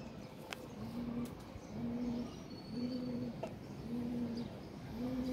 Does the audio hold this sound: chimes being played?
no